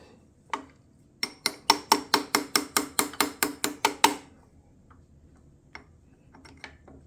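The ratcheting feed mechanism of an Atlas metal shaper clicks in a fast, even run of about a dozen crisp ticks, with a few isolated clicks before and after, close and clear with no talk.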